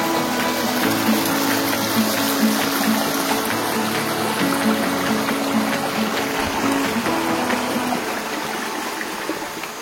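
The Tempayang River, a mountain river, rushes in a continuous, dense wash of flowing water, steady and fairly close, with no voices.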